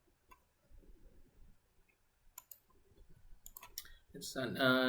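Sparse, quiet clicks of typing on a computer keyboard, followed by a person starting to talk at the end.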